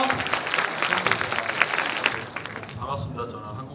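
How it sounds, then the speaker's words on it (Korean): Audience applause for a lecturer at a 2018 Brain Show talk on learning and memory, a dense wash of clapping that fades after about two and a half seconds as a voice begins speaking. "큰 박수 부탁드릴게요."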